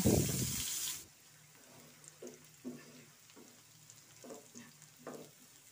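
Chopped onion frying in a little oil for begun bahar, stirred with a few soft scrapes over a steady low sizzle after a brief loud burst at the start.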